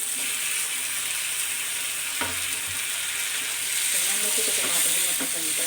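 Onion, capsicum and tomato frying in a pan for a ghee paneer bhurji, a steady close sizzle with occasional low thumps and stirring, no talk.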